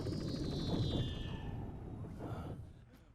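Metal Gear Solid 4 battle audio: a dense, loud rumble of explosions and gunfire with a descending whoosh in the first half, easing slightly toward the end, with no voices.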